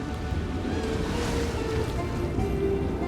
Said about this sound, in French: Oh, il y a une cascade directe.